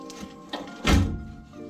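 A fuel hose pulled free from a car's gas tank during a fuel pump install, a couple of soft knocks followed by one dull, heavy thunk close by, with no talk.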